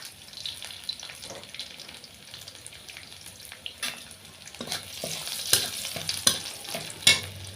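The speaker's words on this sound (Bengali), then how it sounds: "এবার এই তেলের উপরে আমি 3-4টে রসুনের কোয়া থেতো করে চাই দিয়ে দিলাম।" Crushed garlic cloves sizzle in hot oil left over from frying fish, a steady crackle with a few sharp clinks of a spoon or spatula against the pan growing louder toward the end.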